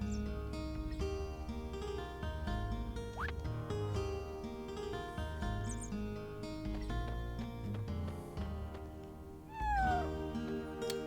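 A cat meows in the video game Chrono Cross, with several short pitched mews over steady, layered game music, one louder rising call near the end.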